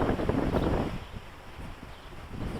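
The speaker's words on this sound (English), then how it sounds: "We've got a wind to our right here." Steady wind buffets an Eachine H8 Mini quadcopter drone in flight on a windy day, a continuous low rumbling roar that swells and eases slightly over a couple of seconds, with no voice.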